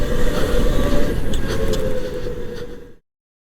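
A go-kart at High Voltage Karting rolls through a cool-down lap, giving a loud, close, steady low engine drone with wind buffeting that fades slightly before cutting off abruptly.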